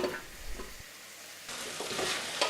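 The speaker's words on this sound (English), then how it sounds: "we're just going to fry this around 2 to 3 minutes until it's all nice and soft" Onion and potato fry in melted butter in a pan, a soft, low sizzle with faint stirring scrapes that grows a little brighter partway through.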